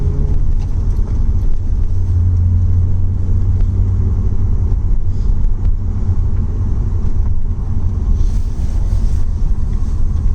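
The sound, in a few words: Lexus SC300 car engine revving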